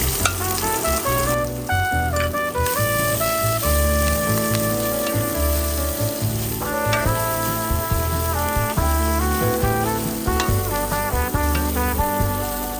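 Garlic sizzles and fries in a pan during preparation of slow-cooked beef short ribs, a continuous crackling hiss beneath a prominent music backing track.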